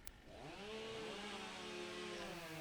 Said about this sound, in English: bogging that saw down just a little bit